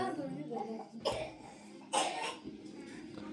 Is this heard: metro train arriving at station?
no